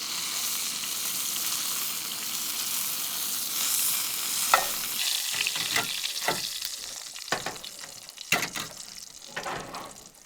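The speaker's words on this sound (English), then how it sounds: "I'm just gonna sear the fat cap on the side" The fat cap of a meat roast sears in a hot pan with a loud, continuous hiss and sizzle, later broken by a few sharper crackles and spits as the sizzling thins out.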